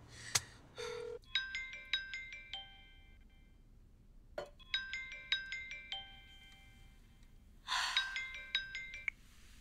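A telephone rings in a melodic ringtone pattern, repeating in several bursts separated by short pauses, with a sharp gasp and a couple of clicks in between.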